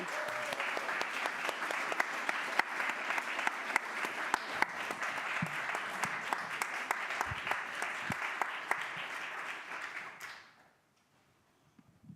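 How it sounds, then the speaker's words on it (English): A church congregation at a Sunday service applauds in a steady, dense patter of many hands for about ten seconds, then the clapping stops abruptly and the room falls almost silent. "Would you join me in applauding?"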